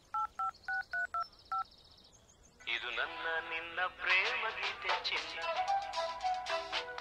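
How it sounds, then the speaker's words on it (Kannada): Telephone keypad tones beep in a quick series of about seven presses, then a mobile phone call connects and its ringback or ringtone melody plays loudly, with some voices mixed in. "ನಮ್ ಹುಡುಗಿ ಫೋನ್ ರಿಂಗ್ ಆಗ್ತಾ ಇದೆ"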